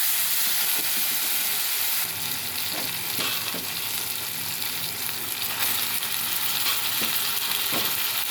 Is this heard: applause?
no